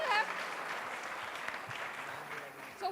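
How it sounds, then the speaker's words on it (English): Audience at a science outreach event in Pune gives a round of applause, a steady wash of clapping lasting about three seconds with brief voices at the start and end. "Give it a round of applause."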